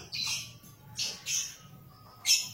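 A male lovebird gives four shrill, squawking calls in short bursts separated by brief pauses, close and clear with no talking.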